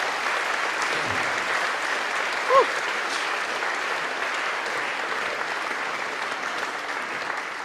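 An audience at a classical Christmas concert applauds a pianist with a sustained, even wash of clapping from a large room, steady throughout with one brief louder bump.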